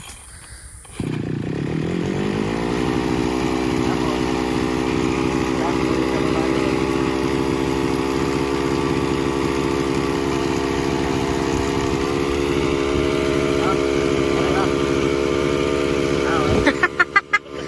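A grass cutter's small two-stroke engine catches after a pull start and runs steadily at a loud, buzzing idle for most of the time, then sputters with a few uneven bursts near the end.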